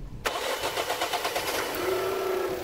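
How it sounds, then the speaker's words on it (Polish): A Dacia Duster 1.0 TCe 100 LPG petrol engine cranks briefly, catches and settles into a steady idle, heard close up with a faint whine as it runs. "Słychać bardziej dłuższe kręcenie silnika po odpaleniu."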